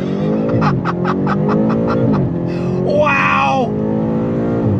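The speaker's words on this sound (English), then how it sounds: "That's how hard this M8 competition hits off the line." A 2022 BMW M8 Competition launching hard from a standstill, its engine droning loudly and climbing in pitch through shifts from inside the cabin, while an occupant laughs and exclaims over it.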